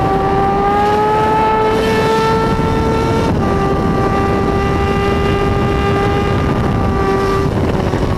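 A Suzuki Gixxer 155 motorcycle engine holds a steady, loud, close drone, its pitch dipping briefly partway through before settling again, with no talk.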